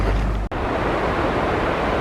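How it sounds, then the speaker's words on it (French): Small waterfall beside a mountain trail toward the Glacier Blanc in the Hautes-Alpes, a steady close rush of falling water with a brief dropout near the start, no talk. "La cascade qui est sur la gauche."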